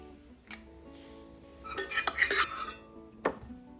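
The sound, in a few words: roasted dry fruits and coconut transferred into a bowl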